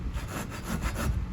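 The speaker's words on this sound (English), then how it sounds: "So I'm just going to cut this with a little handsaw." Small Japanese handsaw cutting through cedar wood, a steady series of close, rhythmic rasping strokes with no talk.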